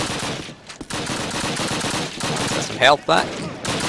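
Gunfire in the Call of Duty video game, Warsaw tank factory level: bursts of rifle and machine-gun shots crackle through the clip while someone talks over them, with a brief alarm-like tone near the end.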